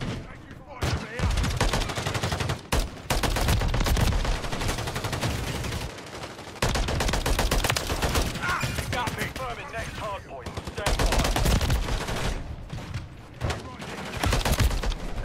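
Dense, sustained gunfire from a Call of Duty Modern Warfare 3 multiplayer match, rapid automatic bursts with brief gaps, loud and continuous throughout, with game radio chatter mixed in.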